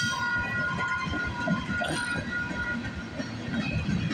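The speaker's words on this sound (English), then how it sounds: "So we got a manifest train at least." A freight manifest train rolling past on rails at Bartlett Avenue in Toronto at dawn, with a continuous rumble and rhythmic wheel clatter, close and loud throughout.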